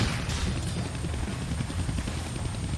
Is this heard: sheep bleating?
no